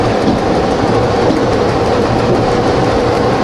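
Continuous, loud rumble of a CountryLink passenger train moving along the tracks between Sydney and Bathurst, Australia, with steady wheel and rail noise throughout.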